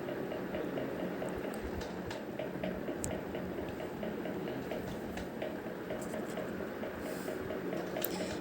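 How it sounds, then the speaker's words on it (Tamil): Mustard seeds splutter in hot sesame oil while tempering for ragi kozhukattai, giving soft, dense crackling with scattered sharper pops, faint and steady throughout. "கடுகு நல்லா பொரியட்டும்."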